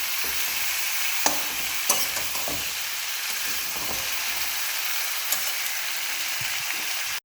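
Potato and eggplant chunks fry in hot oil with onion, a steady loud sizzle with a few sharp clinks of a stirring spoon against the pan.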